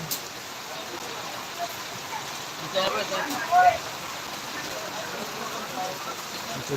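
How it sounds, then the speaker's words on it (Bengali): Steady, heavy rain hissing all around, with a few slightly louder splashy bursts in the middle. "দেখেন বৃষ্টি এতক্ষণ ছিল কম এখন বেড়ে গিয়েছে"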